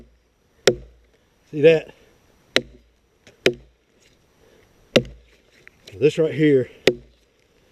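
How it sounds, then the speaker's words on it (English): Axe blows biting into solid sourwood, five sharp woody chops spaced about a second apart, close and loud, with someone talking briefly between strikes. "You'll notice how that axe stays in that cut."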